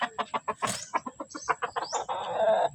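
A sweater gamefowl rooster clucks close by in a quick run of short, choppy notes, ending in a longer, drawn-out call, with no voices around it.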